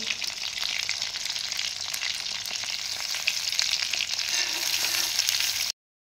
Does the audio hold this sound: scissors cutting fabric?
no